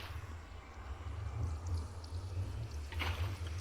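Water sources placed in Minecraft make a soft, steady pouring and flowing sound, faint and continuous, with a brief brighter splash near the end.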